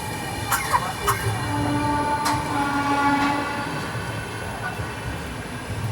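The Amravati Mumbai Superfast train crossing another train near Manmad Junction, heard from on board as steady rolling rail rumble with clanks, squeals and tonal hums throughout.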